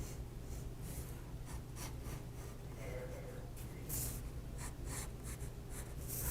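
A pencil scratches a square onto paper, a quiet close rasp of strokes with brief pauses between lines, under faint room noise and breathing.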